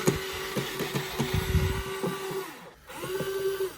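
A small electric screwdriver whirs in short bursts, removing the four screws from the cover of an LED wall pack light, with a brief pause between runs and light clicking.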